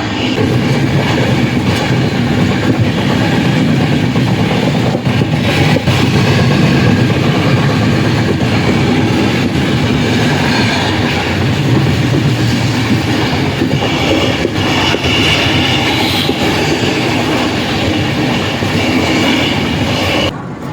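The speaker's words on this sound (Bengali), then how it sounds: "আমাদের ট্রেন ঢুকছে আমার খুব পরিচিত জায়গা খড়গপুরে।" Coromandel Express train running between Chennai and Shalimar, heard from inside a carriage as a loud, continuous rumble with rhythmic clickety-clack of wheels over rail joints and occasional faint squeals, no talking.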